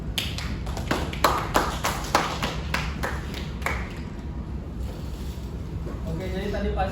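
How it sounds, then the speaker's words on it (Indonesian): A classroom group claps hands during a micro-teaching lesson on football passing, a quick run of sharp distinct claps over about four seconds, then fading into room noise. "Tepuk tangan dulu."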